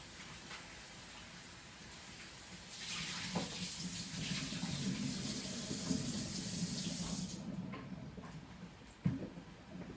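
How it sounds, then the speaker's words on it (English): Tap water runs into a kitchen sink while Brussels sprouts are rinsed. The steady close splashing swells partway through, then ends with a soft knock. "Even though they say it's rinsed, we still want to rinse it a little bit ourselves."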